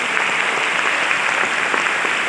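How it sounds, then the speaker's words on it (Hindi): An audience at a Science City program in Kolkata breaks into a brief burst of loud, dense applause, an even wash of many hands clapping together with no pauses. "एक बार आप लोग के लिए जोरदार ताली होनी चाहिए"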